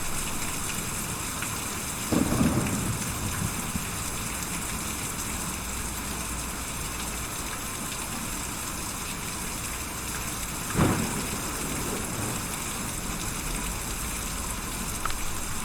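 Steady rain with a low rumble of thunder in the Kentucky Route Zero video game, a constant wash of rainfall with two brief swells of thunder, no talking.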